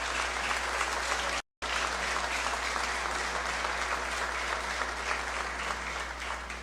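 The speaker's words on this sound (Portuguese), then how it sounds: "Vamos aplaudir ao Senhor por isso?" A church congregation applauds during a worship service, dense continuous clapping at steady loudness broken by a brief dropout, with a low steady hum underneath.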